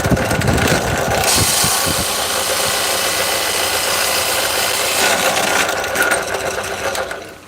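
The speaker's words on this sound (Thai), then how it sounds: "ถ้าไม้ยังสดๆ นี่เจาะจับลำบากนะ ดอกสว่านจะหนืด" An electric drill bores holes through wooden prayer beads, with a steady, loud motor whir running nearly the whole time and a slight change in pitch partway through. The whir fades at the end, and no one speaks.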